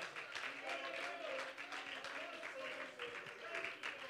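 Congregation applauding during a church service, a steady wash of many hands clapping at once that holds evenly for a few seconds, fairly distant and diffuse.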